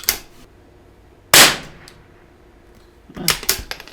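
Sharp gunshots from a cheap .22LR rifle at a shooting range: one crisp crack, then a couple of quicker cracks near the end, with quiet gaps between.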